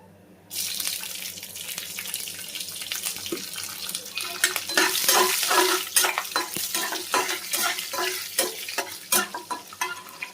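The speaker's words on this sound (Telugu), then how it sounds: "వీటిని కూడా మంచిగా ఫ్రై చేసుకోవాలి" Green chillies fry in a pan for a cabbage fry, starting with a sudden hiss, then a bright sizzle broken by repeated stirring scrapes and clatters, fairly close.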